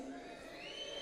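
A crowd at a political speech shouts and whistles, a dense continuous swell of voices with rising whistle tones over it.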